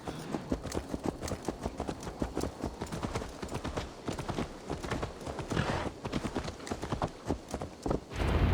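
Horse hooves clip-clop steadily in the video game Assassin's Creed Valhalla, a brisk, even rhythm of close, distinct hoofbeats that continues without a break for several seconds.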